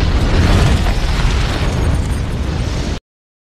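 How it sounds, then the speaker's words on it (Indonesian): A loud explosion at MI6 headquarters in a James Bond film, a dense roaring blast with rumbling debris sustained for three seconds before cutting off abruptly to silence. "M keluar lalu melihat ledakan di markas MI6"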